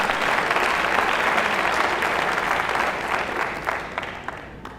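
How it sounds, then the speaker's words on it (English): Steady applause from a large audience at a mridangam arangetram fills the whole stretch, dense and even, tapering slightly toward the end. "Please join me in welcoming Shri Vittal Ramamurthy."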